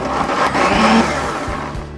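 A blender grinds softened cooked tomatoes into puree, a loud steady whirring motor roar with slight pitch shifts as the blades churn, running continuously throughout with no talking.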